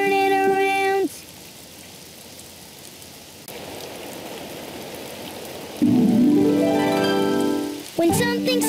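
Steady hiss of rain falling throughout, with swelling whale-like tonal sounds or music rising and dipping over the top.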